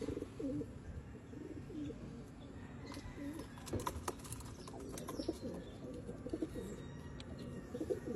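Pigeons at a loft coo softly in low, throaty repeated calls against outdoor background noise, with a few faint chirps and wing sounds mixed in.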